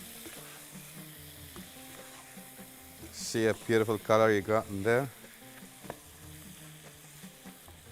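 A Madrooba mixture sizzles quietly in a pan on the stove while it is gently stirred, with a person speaking briefly over the soft, steady frying.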